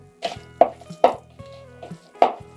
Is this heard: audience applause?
no